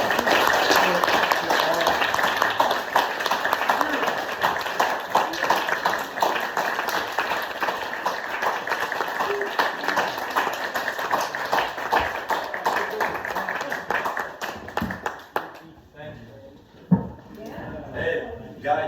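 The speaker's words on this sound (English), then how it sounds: "let's give them all a round of applause for everything that they" A crowd at a ski club gathering of chefs breaks into a long, dense round of applause and clapping that carries on steadily before thinning out near the end, with voices mixed in.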